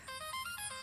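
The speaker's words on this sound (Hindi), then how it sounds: "राजा ने फोन किया है।" A short electronic phone ringtone plays a quick melodic pattern of bright tones, clear and alone.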